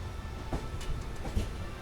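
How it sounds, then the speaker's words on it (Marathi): A train pulls into Latur Road railway station: a low rolling rumble runs throughout, broken by two heavier clacks of wheels over rail joints, fairly close and with no talk. "आपण आता लातूर रोड रेल्वे स्टेशनमध्ये प्रवेश करत आहोत"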